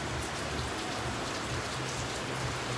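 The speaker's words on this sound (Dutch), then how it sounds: "Zitten we in de regen." Steady rain falling outdoors, a dense, even hiss of drops hitting surfaces with no pauses, fairly quiet and heard on its own without talk.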